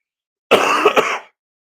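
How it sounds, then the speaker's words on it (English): A single short cough, close and fairly loud, lasting under a second, with no other sound around it, from a person recovering from COVID. "That cough is about the only thing that's left of COVID."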